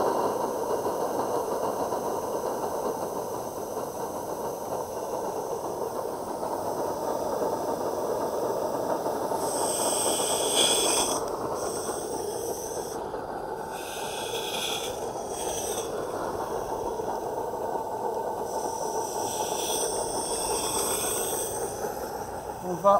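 A Märklin BR 89 model locomotive runs steadily, a faint continuous motor whir and light rattling hum throughout, with occasional higher mechanical clicks from the track.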